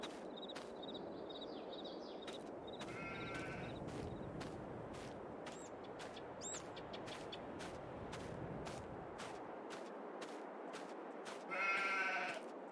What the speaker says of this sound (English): I added some more sheep